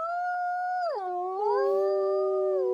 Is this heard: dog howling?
yes